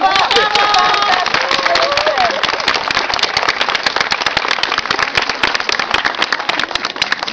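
A children's performance audience breaks into loud, continuous applause, dense crackling claps filling the room from start to finish, with voices and shouts of cheering mixed in.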